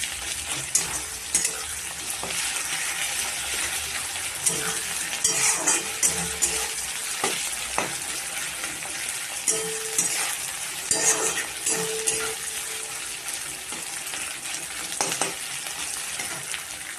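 Onion and ginger fry in a pan with cloves and bay leaves, giving a steady close sizzle throughout while a utensil stirs and clinks against the pan now and then.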